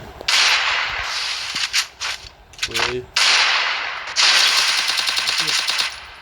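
Rapid bursts of gunfire from the Free Fire video game, including shotgun fire, loud and sharp in several clustered volleys separated by brief gaps.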